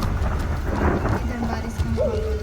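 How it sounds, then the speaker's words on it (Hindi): Stormy wind and rain from an animated Hindi horror story, a loud dense wash of rain and gusts with thunder-like rumble, steady throughout the short stretch. "इधर बारिश का माहौल हो रहा है।"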